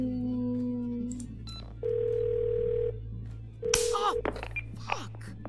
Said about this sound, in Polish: Jest telefon.